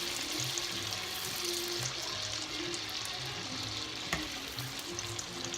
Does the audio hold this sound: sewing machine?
no